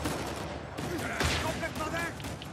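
Machine gun fire in the action game Uncharted 4: A Thief's End, a dense, fairly quiet clatter of rapid shots with one stronger burst midway, mixed with someone talking.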